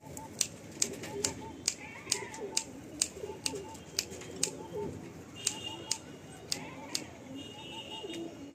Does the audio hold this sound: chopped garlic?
no